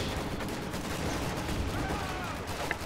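Gunfire in the Company of Heroes 2 strategy game, a dense steady wash of battle noise with continuous small-arms fire during an infantry engagement, loud and constant throughout with no clear separate shots.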